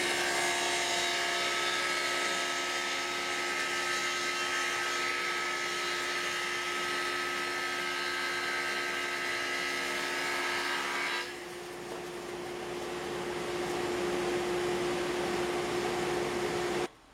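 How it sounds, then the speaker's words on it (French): A saw with a grooving blade cuts wood for a phone stand, giving a loud, steady whining roar that drops abruptly partway through to a thinner, humming run before stopping. "On passe ça sur la lame à rainurer."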